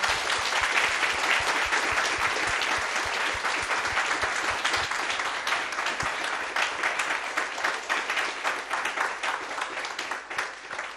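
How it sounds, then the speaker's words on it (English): A large audience applauds panelists at a panel discussion on the Voice to Parliament, with dense, sustained clapping that stays loud and steady throughout before thinning slightly near the end. "can we just get a massive round of applause for our panelists?"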